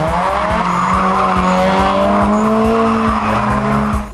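A Toyota Corolla AE86 Levin drifting at a drift exhibition, its engine and loud rising tire squeal sustained for several seconds, with a rhythmic thumping underneath and no voices.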